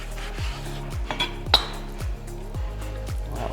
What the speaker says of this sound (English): We'll slice open this Aldi steak